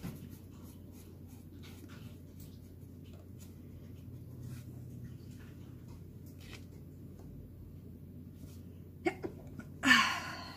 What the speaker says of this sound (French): Désolée, j'ai éternué.